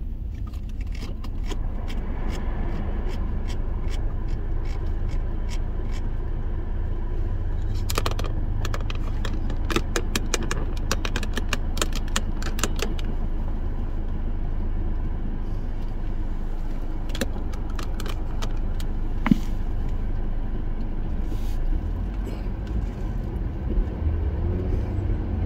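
A car cruising on a freeway heard from inside the cabin with the air conditioning on: a steady low road rumble and engine hum throughout, with scattered light clicks and rattles over the constant drone.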